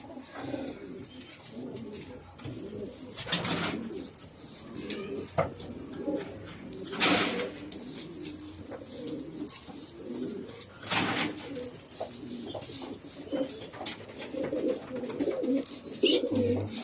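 Pigeons cooing steadily in a loft, soft repeated coos layered over rustling and scraping, with a few brief louder bursts, moderately close.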